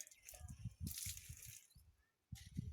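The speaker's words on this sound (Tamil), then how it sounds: "தண்ணி ஊற்று." Water is poured out in short splashing bursts with brief pauses between them, quiet and close, while voices talk throughout.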